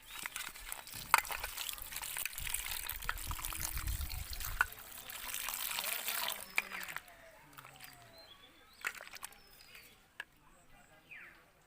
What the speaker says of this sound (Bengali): এবার আমি পরিষ্কারভাবে জল দিয়ে ধুয়ে নেব।